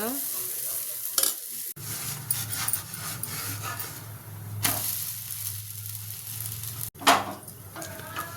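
Dosa batter sizzling on a hot pan, a steady close hiss with occasional scraping and clattering bursts from the spatula or pan and brief sharp knocks, with no talking.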